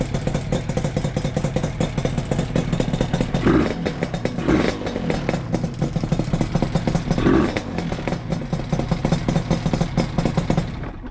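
Early first-generation Suzuki RG250 Gamma (GJ21A) two-stroke motorcycle engine running steadily at idle, a dense, rapid buzzing pulse with light mechanical clatter and a few brief revs, close and continuous, with no talking.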